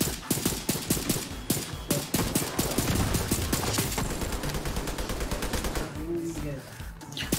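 Gunfire in Tom Clancy's The Division 2 video game: rapid, closely spaced shots in sustained bursts, loud and sharp, with a short lull near the end before firing resumes.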